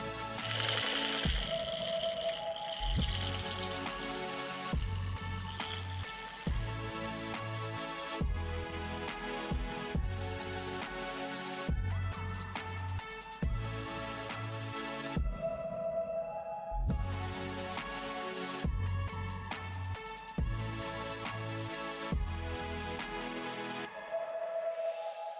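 Braun 810 epilator removing thick upper-lip hair, its motor buzzing in short repeated bursts of a few seconds each, switching on and off close to the microphone with brief gaps of quiet between runs.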